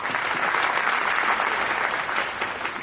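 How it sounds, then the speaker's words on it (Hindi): Audience at a community event applauding enthusiastically, a dense, loud, even wash of many hands clapping that holds steady throughout. "उनके लिए एक बार जोरदार तालियां"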